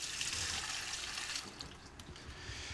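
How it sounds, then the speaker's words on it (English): Water pours steadily into a bowl of ground rice to start a mung bean pancake batter, a continuous close splashing rush with no talking. "I'm going to put some water in first to get it started."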